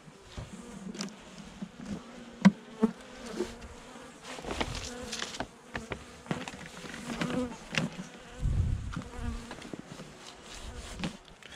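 A honeybee colony in a Home Hive during a November winter inspection hums with a steady, fairly close buzz, with individual bees droning louder as they pass near and occasional light knocks and rustles.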